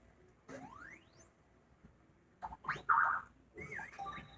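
A short electronic beep effect from the video game Super Mario Maker 2, heard among a few rising chirpy synthetic tones and bright blips in a quiet, sparse sequence.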